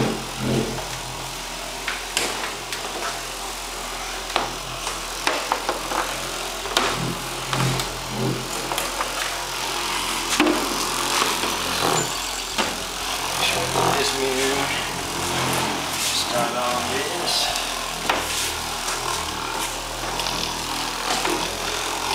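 An orbital buffer applying and removing polish on a 2004 Cadillac CTS, a steady motor whir with broadband rubbing noise throughout, rising and easing as the pad works the paint, with occasional faint voice nearby.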